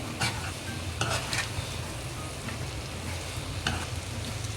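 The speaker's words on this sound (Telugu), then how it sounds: "మసాలాని ఎక్కువ వేయించిన అవసరం లేదు, మనం ఆల్రెడీ వేయించాం కాబట్టి అంతా కలిసే వరకు కలుపుకుంటే సరిపోతుంది" Masala for spicy brinjal fry being stirred in a pan, a soft continuous sizzle broken by a few sharp scrapes of the spatula against the metal.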